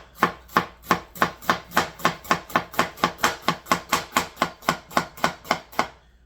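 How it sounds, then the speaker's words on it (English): A knife slices a red onion pole to pole on a cutting board, about twenty crisp, evenly spaced chops in a fast steady rhythm, close and clear with no talk. "you're going to want to slice it, and you're going to want to slice it pole to pole"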